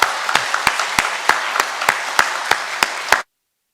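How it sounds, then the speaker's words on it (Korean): A church congregation welcoming a newcomer during Sunday worship, with rhythmic unison clapping, about ten sharp, evenly spaced claps over a softer background of scattered hands, then stopping abruptly. "우리 큰 박수로 환영해 주시기 바랍니다."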